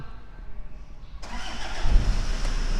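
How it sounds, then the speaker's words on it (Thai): A Toyota Prerunner pickup truck engine cranks and catches, starting abruptly after a quiet lead-in, then settles into a loud, steady idle close to the listener. "อ่าโอเคสตาร์ทแล้วเรียบร้อย"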